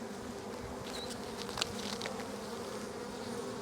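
Honeybees hum steadily across a hive frame holding honey and larvae, a dense, continuous drone close by with a few individual bees buzzing past, and no voices.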